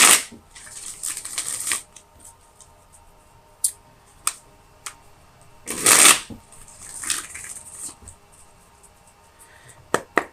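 Tarot cards are shuffled up close in crisp, papery riffles and bursts, with louder flurries at the start and around the middle, interspersed with lighter taps and card slaps.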